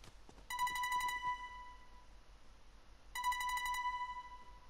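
A telephone rings in the Fortnite horror map Teddy Scary, two bursts of a bright electronic trill separated by a pause, clear over a quiet, dark background.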